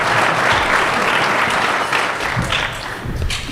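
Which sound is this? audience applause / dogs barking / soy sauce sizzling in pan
audience applause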